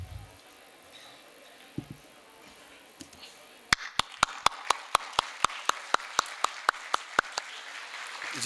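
At a Punjabi literary festival, an audience gives a round of applause that starts with a few scattered claps and builds into sharp, evenly spaced clapping from a small crowd, with no talking.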